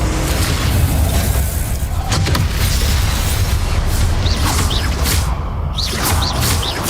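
Loud, dense booming blast from the Confringo explosion spell in the Hogwarts Legacy video game, a continuous roaring rumble with whooshing bursts and crackling impacts layered over it.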